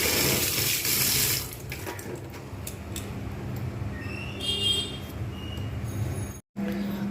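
Taro leaves are rinsed under a running tap. A loud gush of water opens the clip, then quieter splashing and trickling follow, with a brief dropout near the end.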